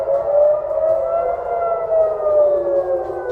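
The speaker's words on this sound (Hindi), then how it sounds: "अभी पूरे इसराइल में सायरन्स बज चुकी हैं।" Air raid sirens sound across Israel, a loud steady wail holding a sustained tone with slow slight dips in pitch, continuous and alone.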